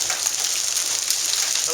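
Hail pelts down during a thunderstorm in Dallas, Texas, a dense, steady hiss of pellets hitting surfaces close by, with faint talk beneath.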